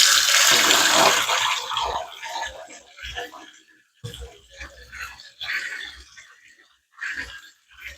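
Tap water gushing strongly at first while oxtail is washed under it, then breaking into intermittent splashes and trickles as the meat is handled, close and fairly loud.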